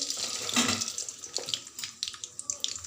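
Mustard seeds crackle and sizzle in about three spoons of hot oil for an aloo masala curry, a steady bright hiss with scattered sharp pops close by, no voices.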